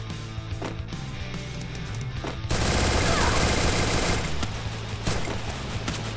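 Gunfire in the mobile battle royale game Free Fire, scattered shots giving way to a dense, loud burst of rapid automatic fire that tapers off into a few more shots.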